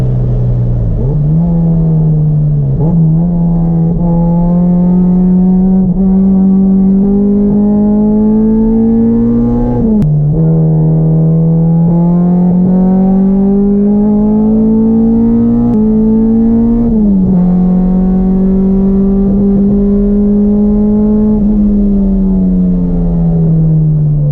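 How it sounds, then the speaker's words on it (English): Engine-swapped Honda Civic running hard on a track, its engine note holding a steady, loud drone that sags and recovers as it drops out of VTEC mid-corner, with brief dips and rises in pitch through the lap. "The engine started to drop out of VTEC mid-corner."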